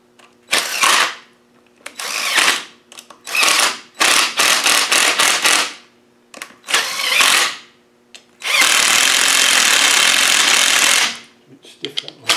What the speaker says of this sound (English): I'm just going to spin these down a little bit with this gun